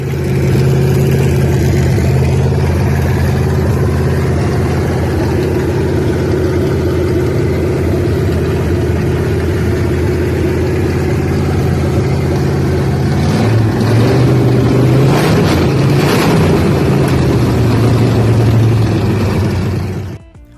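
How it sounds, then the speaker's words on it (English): A rare 1946-1948 Dixon engine fitted in a sleeper hot rod runs steadily at a loud, close idle, its low rumble swelling briefly as the revs rise and fall before settling back near the end. "Now that this rare engine build is back in top shape, this customer has a sleeper hot rod with one seriously cool engine in it."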